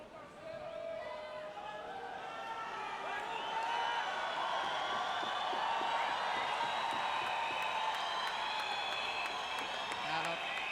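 Crowd at a Paralympic swimming event in Rio building into excited cheering and applause, a broad roar that rises and holds, with a commentator talking over it.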